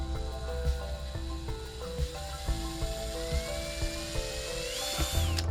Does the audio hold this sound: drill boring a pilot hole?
yes